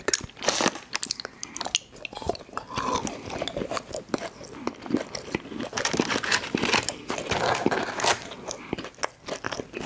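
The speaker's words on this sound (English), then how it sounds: "Let's finish off this egg." Close, crisp bites and crunchy chewing of an Oreo candy egg, repeated crunches and wet mastication filling the clip with no talking.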